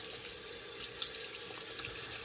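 Tap water runs steadily into a sink for a cold water shave rinse, a continuous close hissing splash with no pauses and no voices.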